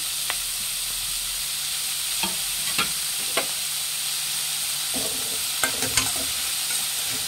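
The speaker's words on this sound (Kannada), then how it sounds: "ಈರುಳ್ಳಿ ಚೆನ್ನಾಗಿ ಫ್ರೈ ಮಾಡಬೇಕು" Onions frying in a pan for chitranna give a steady soft sizzle with occasional stirring scrapes and clicks, no voices.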